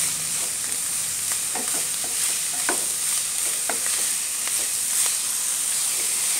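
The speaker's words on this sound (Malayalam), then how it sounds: "നന്നായിട്ടൊന്ന് വഴറ്റിയെടുക്കാം" Finely chopped onions sautéing with salt in a pan for a clam meat roast, a steady close sizzle with light scraping stirs scattered through, no talking.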